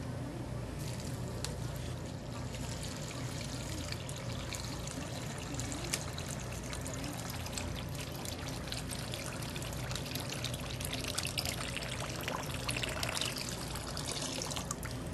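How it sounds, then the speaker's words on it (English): A continuous splashing pour of water into a paper bag runs steadily and evenly throughout, close by, with no voices. "Next, fill the paper bag with water."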